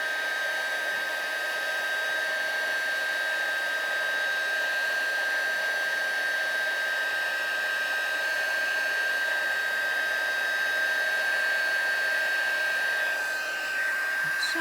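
A heat tool blows hot air over a gothic mandala moon craft piece near its flowers, giving a loud, steady, close-up fan roar with a constant whine that runs unbroken throughout.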